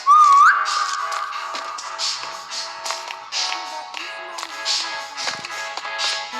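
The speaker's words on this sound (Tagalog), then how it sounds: "Sipol ka ulit." A short rising whistle sounds at the start in the Roblox game 3008, followed by a held tone and scattered light taps and clicks from the game.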